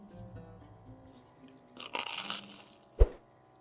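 A close, crisp crunch as mushroom kokoreç is bitten into and chewed, followed by one sharp crack.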